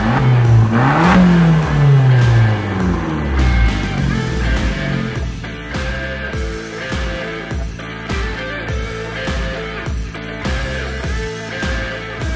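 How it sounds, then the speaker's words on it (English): A car engine revs and accelerates as a drive gets under way, rising harmonic sweeps climbing through gears, loud and close, settling into a steady mid-pitched running drone. "now let's go for the drive and enjoy ourselves and really see what this car is all about"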